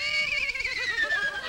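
A human voice imitates a horse's neigh, a wavering, quivering whinny that descends in pitch over about a second and a half.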